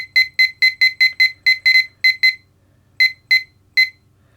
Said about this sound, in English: So you've got a high voltage alarm.